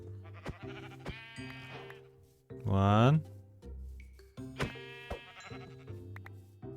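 Sheep in Minecraft give a single short, wavering bleat midway, distinct and close, set among scattered game sounds and a person talking before and after.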